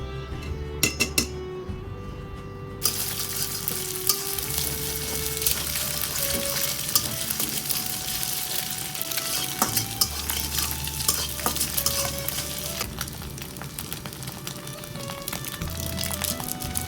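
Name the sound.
cooking and stirring noodles in a pan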